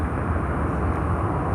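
An aircraft coming in to land on runway 9 at a cargo-busy airport, heard as a steady, fairly close low rumble of engine noise that holds level throughout, with no voices.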